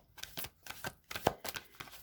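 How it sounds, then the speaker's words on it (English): Playing cards are shuffled in quick, quiet papery bursts, a rhythmic series of soft slaps and riffles heard close up with no talk. "I'll shuffle these cards."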